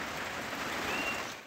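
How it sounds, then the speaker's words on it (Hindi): Heavy rain pours outside a village shop, a dense, even hiss of drops striking surfaces that holds steady before cutting off abruptly. "अभी हम लोग को बारिश हो रहा है ना बाहर"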